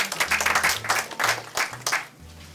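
Audience applause at a literary arts anniversary event, a short burst of brisk, close clapping from a crowd.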